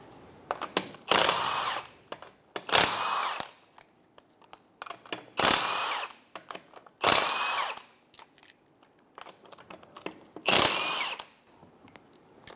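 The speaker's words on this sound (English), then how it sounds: "Remove the 5 19-millimeter lug nuts." A power impact tool zips off the five 19 mm lug nuts from a 2012-2016 Subaru Impreza wheel, five loud separate bursts of a second or less with clicks and handling noises between them.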